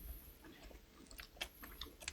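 Someone chews a bite of steak served with sauce, with soft wet mastication and a few crunchy bites spread across two seconds. The chewing is close and quiet, and no one speaks over it.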